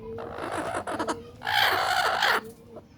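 Nearby hen brooding on a clutch of about twelve eggs in a darkened nesting spot, giving a few short clucks followed by a longer, louder drawn-out squawking call, then quiet.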